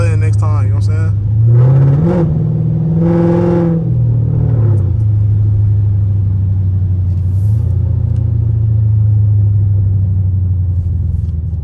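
Catless Dodge Charger SRT with loud exhaust driving on a rainy day, a steady low engine drone rising in a couple of revving swells early on, then settling into a constant rumble with a faint voice in the background.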